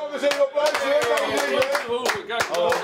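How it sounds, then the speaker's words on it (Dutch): In a busy cafe, a small group claps in quick, irregular bursts close by, with voices talking and calling out over the clapping. "Jongens, even applaus!"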